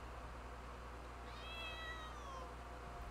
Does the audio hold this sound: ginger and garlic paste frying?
no